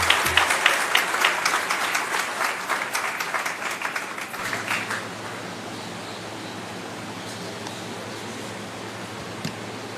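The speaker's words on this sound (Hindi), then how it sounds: "जोरदार तालियों से अभिनंदन माननीय" Loud audience applause welcoming the chief minister at a Chhattisgarh government event on unemployment allowance distribution, dense clapping for about four seconds that fades into a low steady hum of the hall.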